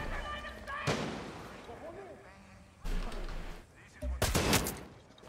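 SVD sniper rifle gunfire in the Far Cry 6 video game, with a few sharp, loud shots spaced a second or two apart amid background combat noise and voices.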